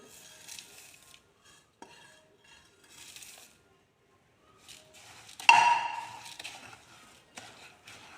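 A spoon clinks and scrapes against a pot as beaten rice is stirred into aval milk, sparse soft contacts with one brighter clatter near the middle, close and quiet.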